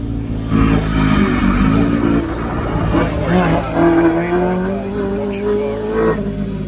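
A Pinto-engined race car roars past nearby at a hillclimb, its revving pitch rising and falling, with crowd noise and voices underneath.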